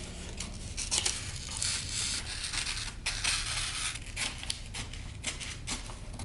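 Scissors cutting out T-shirt pattern pieces from fabric, a close, steady run of crisp snipping and rustling strokes with a sliding, rubbing texture, no talking.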